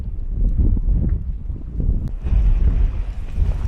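Strong wind blowing outdoors at a landscape spot near a tree, buffeting the microphone with a steady, loud, low rumble and gusts throughout.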